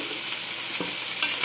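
Chicken feet with garlic and a little salt sizzle in a hot pan, a steady frying hiss broken by a few soft scraping stirs of the utensil.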